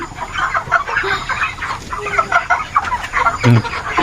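A flock of farm chickens clucks busily and steadily nearby, with overlapping calls and no talking.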